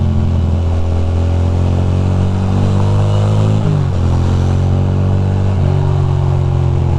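A Ducati motorcycle engine roars loud and close throughout a wet night ride in the rain from Manhattan to Brooklyn, with its pitch dipping and rising as the rider shifts and revs, mixed with wind and road rush.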